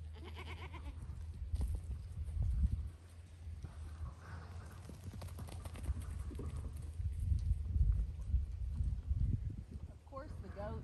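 Goats moving about on a farm, hooves clattering and shuffling with occasional bleats, heard under people talking and nearby activity.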